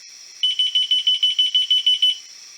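A small electronic tracker tag gives a rapid run of about ten loud, shrill beeps in even rhythm, close up against a faint background hiss, then stops.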